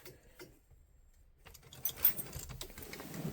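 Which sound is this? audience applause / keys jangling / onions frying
keys jangling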